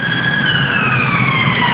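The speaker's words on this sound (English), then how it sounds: "And those sirens, they are here practically constantly." A loud, continuous siren wails with a slowly falling tone, along with the rumble of traffic.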